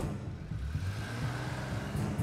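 A car engine runs steadily at close range with a low, even rumble that swells slightly as it pulls away, no voices over it.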